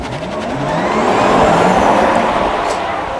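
Electric Porsche car with two electric motors, one front and one rear, launching hard at a supercar weekend show, a loud rising whir and rush of tyres and air sweeping past close by.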